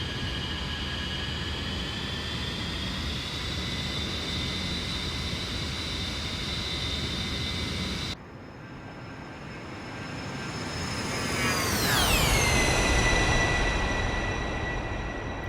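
Jet aircraft engines in the DCS flight simulator hum steadily, then after a brief drop spool up to maximum throttle, a rising whine sweeping upward over a loud, building roar with no voices.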